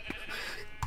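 Sheep bleating in a multiplayer video game during a fight, two short bleats near the start and end of a second, fairly quiet with game noise around them.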